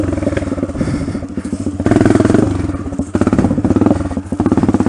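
A 2020 Honda CRF250F dirt bike engine revs and surges continuously while riding a tight trail, loud and close with clattering and scraping bits.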